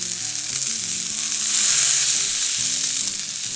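Balls of ground beef topped with onions for Oklahoma onion burgers sizzle on a grill, a bright, constant crackling hiss heard close and alone.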